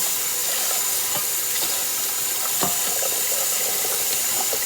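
A kitchen tap runs steadily while a colander is washed, making an even, unbroken hiss of water with faint splashes throughout.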